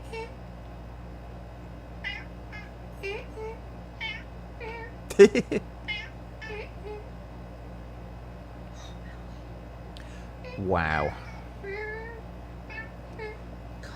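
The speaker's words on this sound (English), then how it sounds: "That cat can talk." A cat meows in a clip played back during a live stream: a series of short, faint meows, a louder sharp cry partway through and a long drawn-out yowl later, with a brief exclamation from a person.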